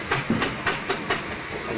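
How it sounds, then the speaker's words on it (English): A steam traction engine at a funeral procession in Bolton gives off hissing steam in a series of about five rhythmic puffs, close and moderately loud, with a soft continuous hiss between them. "There's Betsy, a good head of steam, steering on this occasion is Roger Murray,"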